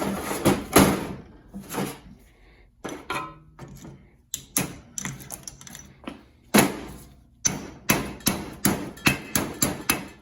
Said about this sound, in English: You just give a couple taps with a hammer and she's Yeah. off.